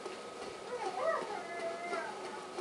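A puppy whimpering and whining with thin, drawn-out high cries that waver and rise, faint against a steady background hiss.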